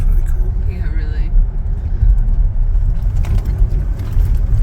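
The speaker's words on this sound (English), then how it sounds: "The road is pretty slippery, but the truck is doing okay" A truck drives along a slippery road, its low engine rumble steady and close throughout, with faint scattered clatter above it.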